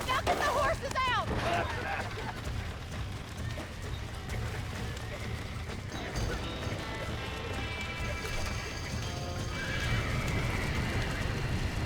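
Horses in the Red Dead Redemption video game whinny and neigh, with a sharp neigh early on over clip-clopping hooves. Movement and game ambience continue underneath, and a voice talks at times.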